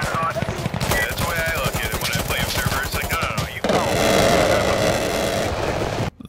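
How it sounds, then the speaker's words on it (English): A PKM machine gun fires in Insurgency Sandstorm, loud rapid bursts of automatic fire with rattling mechanical clatter, then a sustained roaring stretch ending in a brief cutoff; a voice speaks over the shooting. "The PK machine gun,"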